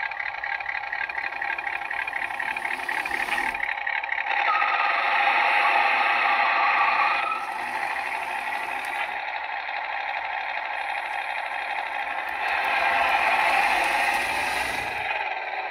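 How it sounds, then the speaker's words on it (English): A Lionel Custom Series 2398 model train engine gives off a sustained electronic tire-burnout effect, a harsh screeching hiss that swells and fades in two loud waves, heard alone without talk. "when you um, move the engine out, it actually um, sounds like a tire burning out"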